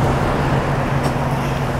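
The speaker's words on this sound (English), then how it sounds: "You can hear a lot of these cars when they lose control or they go through the water like that" Cars drive through flood water on a rain-soaked Los Angeles freeway, a steady broadband roar of tires and spray with low engine rumble and a brief splash partway through.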